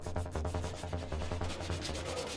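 Bodywork of a Vauxhall Tigra being rubbed down with sandpaper, a steady rasping scrape in quick repeated strokes, close and fairly loud throughout with no talking.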